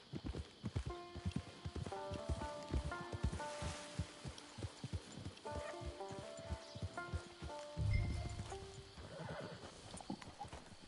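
A horse in the Western video game Red Dead Online walks near a camp. Hooves clip-clop in a steady, quiet rhythm, with a whinny and soft rustling over a light musical backdrop.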